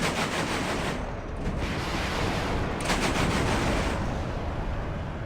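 Battle noise from the WARNO strategy game: an anti-air unit with 120 millimeter cannons and 12.7 millimeter machine guns. Dense, loud, continuous roar of rapid fire and blasts fills the whole stretch, with no talking.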